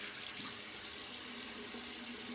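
Steady rush of running tap water, continuous and close, as lather from Tallow & Steel and Karve shaving soap is rinsed away during a wet shave, with no talking.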